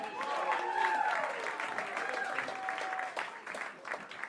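Comedy club crowd applauding comic Kim between sets at a festival round, steady dense clapping with a voice talking over it near the start and a few cheers mixed in.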